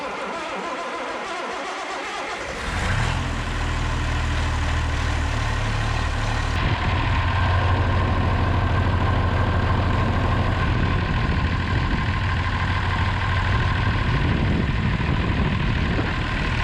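A Massey Ferguson 3505 tractor engine fires up after a water pump replacement and settles into a steady, close diesel idle with a low, even rumble that continues without a break.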